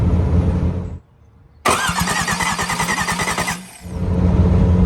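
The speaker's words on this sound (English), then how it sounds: "Turning over, so hey, our starter works" Truck engine cranking on its starter after fuel pump and wiring work, a short pause then a loud rapid rhythmic chugging of the starter turning the engine over for about two seconds before it cuts off, close up.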